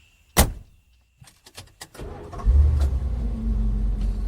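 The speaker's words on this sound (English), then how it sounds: "Dan and Alex got into the back of the young man's car." People get into a car: a sharp door clunk, then a few softer thumps and clicks, followed by a low engine rumble starting up and running steadily, close by with no talk.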